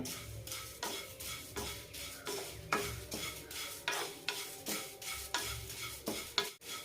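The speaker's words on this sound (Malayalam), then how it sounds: "രണ്ട് മിനിറ്റ് നന്നായി വറുത്തെടുക്കാം" Flattened rice (aval) dry-roasts in a hot pan while a spoon stirs it, making regular scraping and rustling strokes about twice a second over a light sizzle, with no voices.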